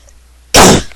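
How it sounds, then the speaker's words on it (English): A single sharp cough bursts out once after near silence, loud and close, then trails off quickly. "It was a single cough"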